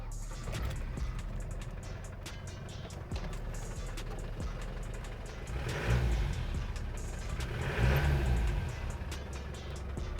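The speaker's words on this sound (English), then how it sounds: "The diesel sounds really cool too." A 1993 Land Rover Defender 110 with a rebuilt diesel engine idling close by, a steady low rumble with clattering texture, swelling twice with brief revs.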